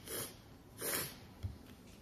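Faint nasal sniffles from someone with a runny nose in very cold weather: a few soft, breathy sniffs spaced about half a second apart, with no talking.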